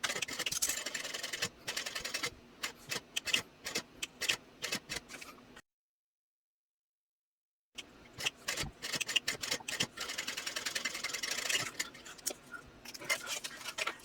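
A sewing machine stitches in short bursts with rapid ticking needle strokes, backtacking one stitch back and forth to reinforce card slot seams; a brief silent gap in the middle splits two runs of dense mechanical clatter, with no talking.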